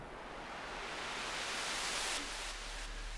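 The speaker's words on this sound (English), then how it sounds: "On 8 I've placed white noise with a very long attack time" White noise from an Elektron Syntakt or Digitakt, shaped with a very long attack and run through delay and reverb, a steady wash of hiss that slowly swells and brightens, then rings out with a few stuttering echoes at the end.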